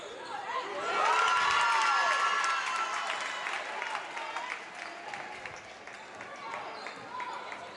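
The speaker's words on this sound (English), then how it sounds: "A lot of cheering." A crowd at a high school girls basketball game cheers and applauds loudly, with shrill shouts, then settles into murmuring while sneakers squeak on the court.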